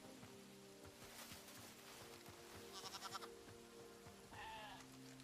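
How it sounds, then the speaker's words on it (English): Sheep bleating in the video game Hytale, a few short tremulous cries heard near the middle and again toward the end over a steady bed of ambient game sound, with no talk. "Hello, little sheep."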